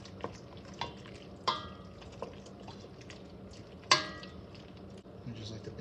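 A spoon stirring chicken paprikash with dumplings in a pot: soft, quiet scraping with a few sharp clinks of metal against the pot's rim, spaced irregularly, close up with no talking.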